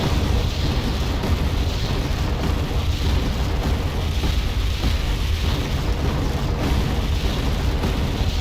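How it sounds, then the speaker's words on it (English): A dense, continuous artillery barrage in the Cold War strategy game Wargame: Red Dragon, heavy explosions blurring into a loud, rumbling roar with distant booms layered throughout and no clear pause. "I think that's some artillery spam."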